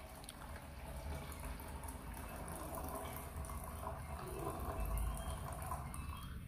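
Water is poured into a container to measure out 370 grams for a batch of thick dishwash paste, a steady trickling and splashing stream that swells slightly toward the end, heard alone without talk.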